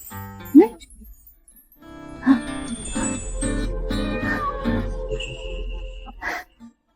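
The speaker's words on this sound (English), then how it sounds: "Cat," A cat meows briefly a couple of times amid other sounds and speech, the cries short and fairly close.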